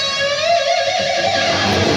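Distorted electric guitar plays a lick from a guitar solo, held palm-muted for most of the phrase and then let ring open at the end; loud, dense and continuous, with no talking.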